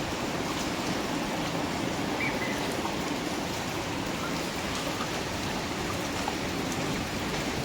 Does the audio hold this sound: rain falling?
yes